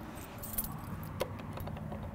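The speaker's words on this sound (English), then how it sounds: "Keys." A set of keys jangles briefly beneath a 2020 Cimarron Lonestar stock trailer, with a quick metallic rattle standing out over steady low background rumble and no talking.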